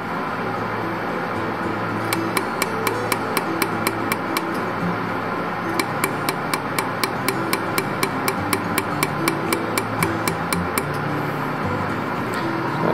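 Laser welder tacking a dental space maintainer, firing a rapid series of sharp, evenly spaced clicks in two bursts over a steady background hum of equipment.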